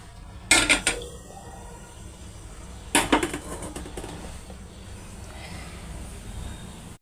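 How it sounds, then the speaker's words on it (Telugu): A kadai (wok) is set down on a stove with two sharp metallic clanks, one early and one a few seconds later, each ringing briefly before fading into quiet kitchen background. "ఇప్పుడు వేరే ఒక కడాయి పెట్టుకుందాం."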